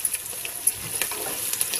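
Potato pieces frying with curry leaves in a pan are stirred, a close sizzle under light scraping and tapping of the spoon, with no voices.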